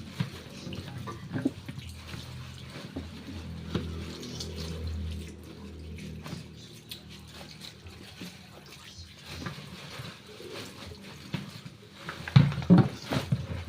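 Tap water runs into a sink while a cucumber is washed by hand, a steady soft splashing with small bursts and clatter near the end, and no talk.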